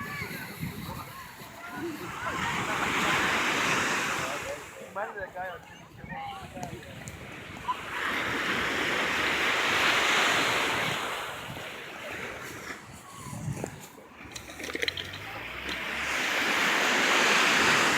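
Ocean waves roll onto the shore in steady surges about every five or six seconds, each swell building to a broad wash of surf under gusting wind buffeting the microphone.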